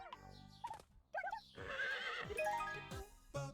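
Video game horse in Miitopia gives a bright whinnying neigh, with short clip-clop sounds and quick game effects around it, mixed with brief bursts of speech.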